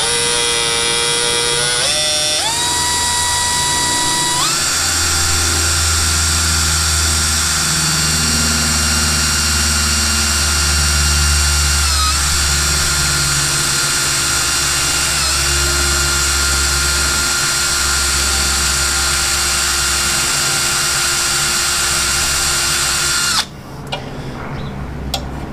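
A power drill runs steadily for over twenty seconds, boring a small pilot hole for self-tapping screws while fitting wheel rings on a Ram 3500 truck; the motor whine shifts pitch early on, then holds a constant loud drone before cutting off.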